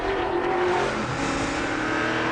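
A loud, steady racing car engine roar with a harsh, grinding mechanical texture, like a cement mixer, sustained throughout without pauses, heard close up with no talking.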